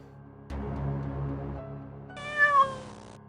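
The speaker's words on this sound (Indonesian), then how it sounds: "Ada kucing lain, Bu." A cat meows once at close range in an indoor domestic setting, a clear, drawn-out tonal cry rising near the end, heard alone without talk over a low background hum.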